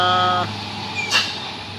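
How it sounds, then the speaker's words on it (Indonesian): A palm-kernel-shell truck engine drones loudly nearby on a steep uphill road, its tone shifting as it passes, with a brief higher whine partway through. "Ini ada truk cangkang."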